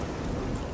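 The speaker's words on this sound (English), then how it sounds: "Ah, and the rain! Of course the rain follows!" Rain and thunder in the video game Oblivion, played with the Oscuro's Oblivion mod: a steady, dense wash of rainfall with a low thunder rumble beneath, loud and continuous across the short moment, with no voices.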